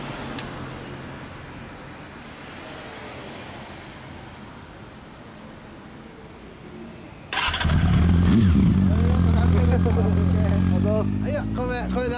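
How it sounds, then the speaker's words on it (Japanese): A 2012 Honda CB400SF Hyper VTEC Revo four-cylinder motorcycle fitted with a WR's aftermarket exhaust starts up after a quiet stretch, then settles into a loud, steady idle close by with brief revs, while people talk nearby. "ごめん、エンジンを聞かせてもらえるかな。"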